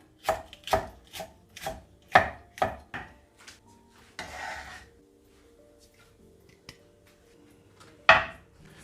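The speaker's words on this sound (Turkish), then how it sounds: "Ortadan ikiye kes, ortadan ikiye kestiğini ince ince." A knife slicing a red pepper thinly on a cutting board: a quick run of sharp, crisp chops, then a longer scraping sweep and a few scattered cuts, close and clear with no talk.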